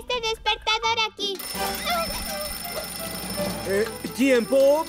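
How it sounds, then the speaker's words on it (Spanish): An alarm clock rings in short repeated bursts at the start of a cartoon scene, then gives way to animated character voices talking over music. "¿Quién puso este despertador aquí?"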